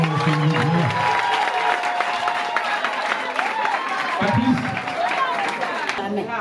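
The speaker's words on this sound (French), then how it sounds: "On l'encourage avec des applaudissements" Clapping and crowd noise encourage Patrice at a gathering, steady and fairly loud throughout, mixed with chatter and some cheering voices over the applause.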